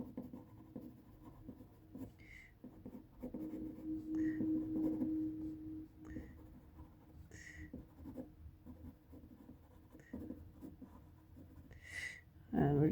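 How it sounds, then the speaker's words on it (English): A pen drawing small tile textures on paper for a perspective illustration of tiled flooring: close, continuous scratchy strokes with short dabbing marks in an irregular rhythm. "I'm just going to draw a little textures here to indicate that this is some type of tiled flooring"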